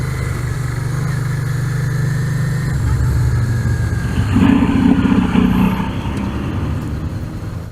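Motorcycle engine running steadily while riding over table-style speed bumps on a road, a constant near drone that shifts pitch as the bike slows and picks up again.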